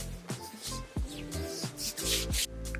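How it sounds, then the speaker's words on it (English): Homemade body butter is rubbed onto an arm by hand, a close series of soft, uneven swishing strokes repeating every half second or so, with no talking. "Rub some of that on my arm."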